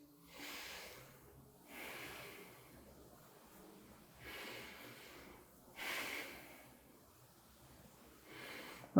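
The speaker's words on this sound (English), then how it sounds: "and breathe" A person breathes deeply and steadily while doing a facial fascia exercise, pushing the chin away with one hand; four or five drawn-out, airy nasal breaths come about every two seconds, close and soft, with no talking.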